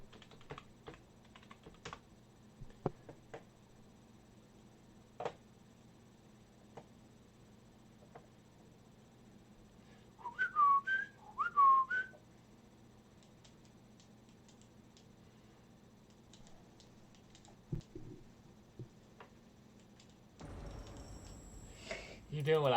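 A person whistles a short tune in two quick bursts of warbling notes, fairly close, amid keyboard typing clicks and quiet room tone, with a voice speaking briefly near the end.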